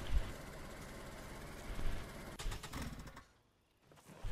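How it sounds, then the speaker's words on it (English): Car engine idling in the video game DayZ, a low steady rumble with a faint knocking vibration that briefly dips quiet near the end, no voices. "Why is the engine still on?"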